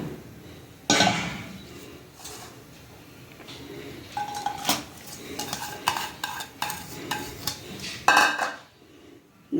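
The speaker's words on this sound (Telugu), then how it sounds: "ఇక్కడ పక్క నేను ఒక నాన్ స్టిక్ ప్యాన్ తీసుకున్నాను, ఆయిల్ తీసుకున్నాను ఫర్ ఫ్రైయింగ్ అనమాట." A non-stick pan with oil is handled while mutton fry is cooked, with a steady background sizzle and scattered sharp clinks and scrapes of a utensil against the pan, close and moderately loud.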